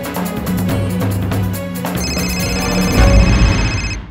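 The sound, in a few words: telephone ringing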